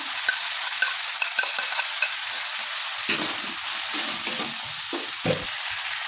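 Chili, ginger and cumin pastes sauté in a hot pan with boiled banana blossom, giving a steady close sizzle broken by scraping stirs and a few sharp spatters.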